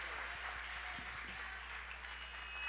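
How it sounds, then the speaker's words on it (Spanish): A church congregation applauds together, a soft, distant wash of clapping that continues steadily in a large room, with no voices heard. "Denle un aplauso bien grande a Jesucristo"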